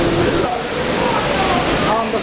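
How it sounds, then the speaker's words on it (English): Niagara Falls roars as a steady, loud, broadband rush of falling water, filling the whole clip with constant noise while a person speaks over it. "this water, and there's so much of it. And that's all rushing there."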